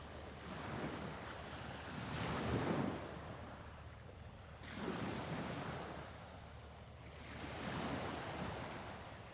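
Ocean waves wash onto a shore in slow, regular surges, each swell building and fading with a steady hiss of surf and light wind between, soft and unaccompanied by voices.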